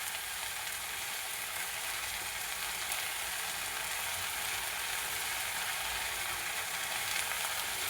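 Okra sizzles in a pan over low heat, a steady, soft, even frying hiss that continues without a break and with no voices.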